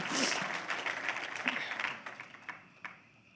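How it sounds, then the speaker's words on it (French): A church congregation applauds with dense clapping that is loud at first, then thins into scattered claps as it dies away. "Est-ce qu'on pourrait donner une main d'applaudissement?"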